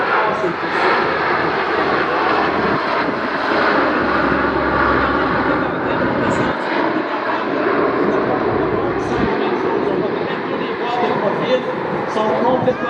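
A small jet airplane with very small engines makes a high-speed pass at an air show, a loud continuous roar that holds steady throughout with faint rumbling dips.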